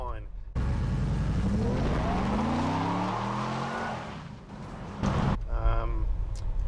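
A restored, modified Chevy pickup truck with roughly 440 wheel horsepower opens up hard, its engine roaring loud and close as it climbs in pitch for several seconds, eases off, then surges again briefly.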